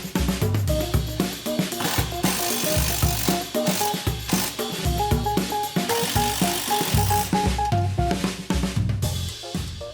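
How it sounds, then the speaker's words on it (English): A screw gun drives fasteners into the mount of a camper's stabilizer jack, making loud, close, rapid ratcheting clicks over a whirring motor whine that rises and falls in repeated bursts. "with a screw gun to hold the stabilizer in place"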